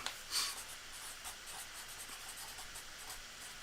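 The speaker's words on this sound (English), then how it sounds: "I can't talk and write at the same time" A pen writes by hand on paper, a faint, soft scratching with a brief brighter stroke near the start, steady and close, with no talking.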